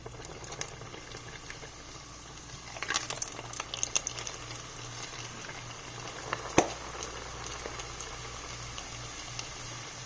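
Vegetarian empanadas fry in a pot of smoking hot grease, a steady bubbling crackle with a busier burst of popping midway and a sharp pop later, at moderate level.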